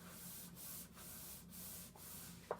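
Paper glued down for a Fourth of July craft is rubbed firmly by hand, giving steady close sanding-like friction strokes with brief pauses, ending in a small tap.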